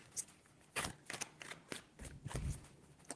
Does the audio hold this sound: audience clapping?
no